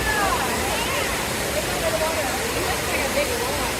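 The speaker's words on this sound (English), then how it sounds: "Chilling in that small little waterfall." A small waterfall splashes steadily in a zoo hippo enclosure, a constant close rush of water with faint crowd chatter mixed underneath.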